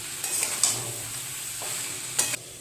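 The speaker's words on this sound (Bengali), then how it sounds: "এবার মশলার সাথে সবজিটাকে খুব ভালো করে কষে নিতে হবে।" Jackfruit, potato and chickpeas are stir-fried with spices in a pan, a continuous sizzle broken by a few sharp scraping clicks as a spatula stirs the mixture, close and clear.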